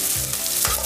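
Sliced onion hits hot oil in a pan for dhaba-style gobi masala, a loud, bright, continuous sizzle with a couple of low thuds as it lands and settles.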